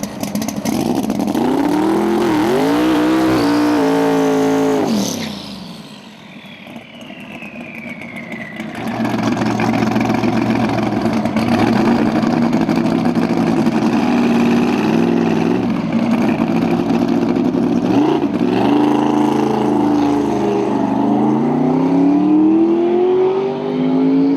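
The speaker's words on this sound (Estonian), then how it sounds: "Teiste klasside vahel tegi prooviringiga see hiiglasliku turboga uus Ford Mustang." A new Ford Mustang with a huge turbo runs a test lap at a drag racing event in Alastaro, its loud engine rising and falling in pitch through gear changes and passing close by.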